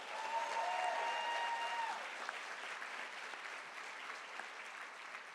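An audience at the 2024 HOSA opening session applauds, a broad crowd of clapping that is strongest at first and then fades to a softer, thinning patter, with a faint tone lingering early on.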